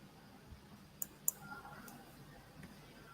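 Computer mouse clicks while building a Scratch game, a few sharp, quiet clicks in close succession in a hushed room, with faint background noise and no voices.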